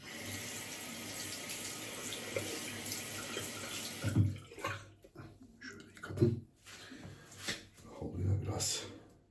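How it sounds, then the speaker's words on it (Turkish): A Trit Platinum razor blade is rinsed under a running tap: a steady stream of water flows for several seconds, then gives way to short, splashy bursts as the blade is moved through the water. "Bunu şimdi güzel yine yıkıyorum."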